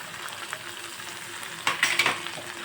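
Onion frying in ginger, chilli and garlic paste for paneer lifafa, a soft continuous sizzle with a few louder stirring scrapes near the end, close and fairly quiet, with no speech.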